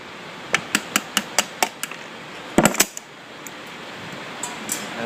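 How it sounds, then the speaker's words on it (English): A knockout tool is hammered against a pin holding the fan on a Gusher pump: seven sharp, evenly spaced metallic taps, then a quick cluster of harder blows and a couple of faint knocks afterward. "You got to drive the pin out with a knockout tool."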